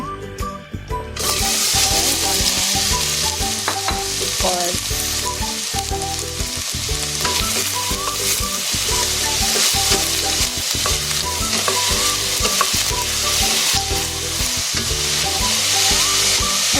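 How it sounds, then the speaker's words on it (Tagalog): Chopped onion frying in oil in a casserole pot for vegetable borscht soup, a loud continuous sizzle after a brief quiet start, with rhythmic stirring scrapes and clinks repeating throughout. "Now I'm going to fry my onion."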